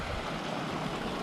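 South branch of the Carabasset River running very low, a steady broadband wash of shallow flowing water close by, continuous and alone with no voices.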